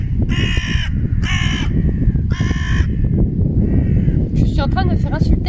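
A crow caws loudly and close in several harsh, spaced calls over a busy outdoor background, with some other bird chatter near the end.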